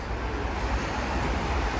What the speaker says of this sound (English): you can probably hear sort of traffic going past